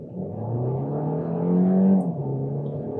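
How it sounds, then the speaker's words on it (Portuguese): A Kia Niro SX Prestige 2024 hybrid accelerates from a standstill with the air conditioning on, its engine note rising and swelling mid-way and then dropping slightly as it shifts, steady and fairly close. "Acelerando, soltando o freio."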